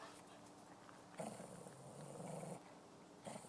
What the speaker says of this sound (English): this is the dog he's growling at